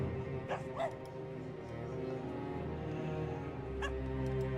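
Small pet puppy, a wiener dog, in World of Warcraft, giving a couple of short yips and barks near the start over steady game music and ambience, with a brief sound later.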